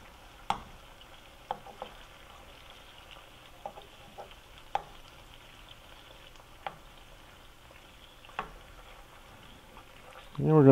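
Garlic shrimp frying in a pan makes a faint, steady sizzle broken by several sharp clicks and taps from utensils, with a voice starting at the very end.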